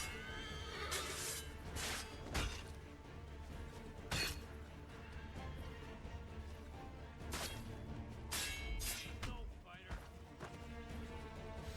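A horse whinnies sharply amid a busy Assassin's Creed III game soundscape, with crashing impacts and clattering hooves, while a voice talks over it.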